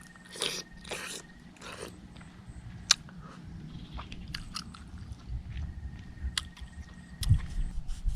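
Close, crisp bites into a whole fresh lime give way to wet, crunchy chewing that continues steadily, with no talking.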